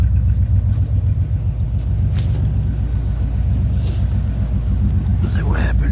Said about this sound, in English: Nah, she's running great. She might be missing on the cylinder